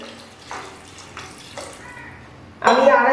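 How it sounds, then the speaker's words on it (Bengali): About 250 ml of water poured into a potato and papaya curry gravy in a pan, a sudden rush of splashing liquid at the end after a few soft clinks and faint kitchen noises. "আমি 250 ml মতো জল দিলাম।"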